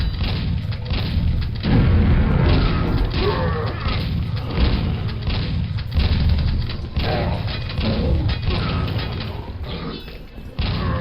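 Quake grenade launcher firing in a loud run of heavy thumps and crashing blasts, with mechanical clanks between shots and a dense rumble throughout; no talking.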